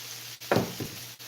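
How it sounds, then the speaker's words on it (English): Food frying in olive oil in a pan, a short burst of crackling sizzle that flares up and then fades over a low steady background hum. "You can see it's sizzling."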